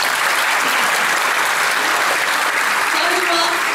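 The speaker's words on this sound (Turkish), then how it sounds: "Tekrar bir alkışlayacağım." An audience at a cultural centre event bursts into loud, sustained applause, a dense wash of many hands clapping close and continuously, with a few faint voices underneath.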